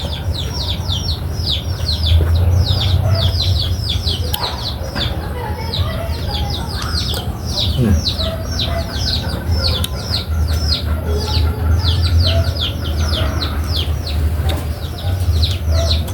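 Backyard chickens clucking and calling repeatedly while being fed leftover food, a busy stretch of close, overlapping clucks and chirps over a low outdoor rumble.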